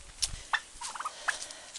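A turkey hen gobbles in short, warbling bursts several times, fairly faint and a little distant, with quiet outdoor background between the calls.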